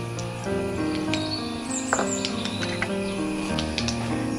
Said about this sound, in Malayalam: കടുക് പൊട്ടിയതിന് ശേഷം നമുക്ക് 2 വറ്റൽമുളക് ഇതിലേക്ക് ഇടാം.